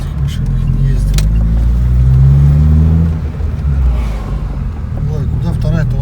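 A VAZ car engine drones low and steady while the car pulls out onto a road, a loud interior rumble that swells and eases slightly as someone talks over it.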